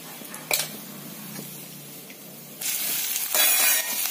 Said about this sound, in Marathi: याच्यामध्ये आपण छान असं तेलामध्ये परतवून घेणार आहोत आपण।